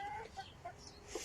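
Backyard hens clucking in a small home flock of six or seven laying birds, a few short nearby clucks and squawks in a brief burst, with no talking.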